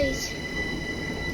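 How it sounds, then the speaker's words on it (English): A train pulls away from the station at Twyford with a steady rumble of rolling wheels and a faint high squeal, continuous and fairly close, with no speech over it. "As it's just about to go, the wheels are turning, and here it goes."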